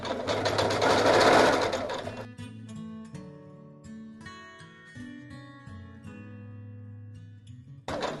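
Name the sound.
sewing machine stitching fabric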